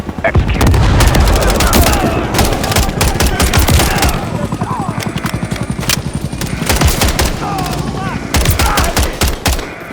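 Intense close gunfire in Call of Duty: Modern Warfare 3 after a breaching charge, rapid automatic bursts and heavy booms piling on one another, with shouted voices faintly under the din.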